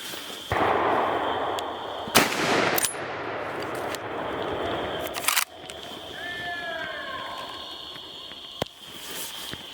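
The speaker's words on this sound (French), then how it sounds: "Une balle parfaite, juste derrière l'épaule, stoppera net ce sanglier." A rifle fires at a wild boar during a driven hunt in bracken, with two loud sharp cracks a few seconds apart over outdoor background noise, then a lighter click and fainter sounds afterward.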